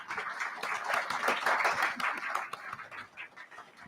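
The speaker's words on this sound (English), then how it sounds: "Can I get a round of applause for our panel tonight before we start?" Pub audience at a live Politics in the Pub podcast recording clapping for the panel, a faint, scattered round of applause that swells in the middle and thins toward the end.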